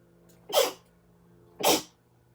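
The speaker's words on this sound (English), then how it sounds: "I feel like I gotta sneeze." Two sharp sneezes, roughly a second apart, each a sudden loud burst that fades quickly, close by against a quiet background.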